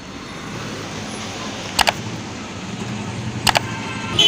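Night traffic jam on a street in Ponda city, Goa, with a steady low hum of idling vehicles and two brief sharp bursts, like horn toots, rising above the background rumble.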